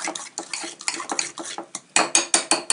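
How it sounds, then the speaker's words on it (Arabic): Flour being mixed with eggs, ginger and salt in a bowl: a run of quick clinks and scrapes against the bowl, close and steady, getting sharper and louder toward the end, with no talking. "نخلطو هذيك الفارينه مع البيض والزنجبيل وملح"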